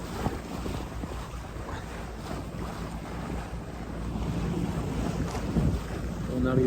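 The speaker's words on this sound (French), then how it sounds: "J'ai mis le moteur à 1300 tours." A sailboat's engine runs at 1300 rpm against wind and current off the Iroise coast near Roscoff, making a low steady drone under buffeting wind noise and sloshing waves.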